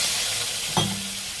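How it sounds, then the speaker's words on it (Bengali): Water splashed into a hot pan of browned potato curry meets a steady sizzling hiss, with one brief sharper splash-crackle partway through over continuous frying noise. "এবার আমি জল দিয়ে দিই।"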